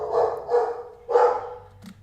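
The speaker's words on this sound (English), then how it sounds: "I know my dog is going crazy here" A dog barking indoors, three loud close barks with short gaps, the last one cut off, followed by a small thump.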